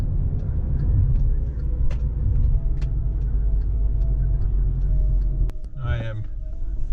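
A Volkswagen Jetta drives along with a steady, loud low engine and road rumble from inside the cabin, ending with a brief clatter and a faint higher squeal near the end.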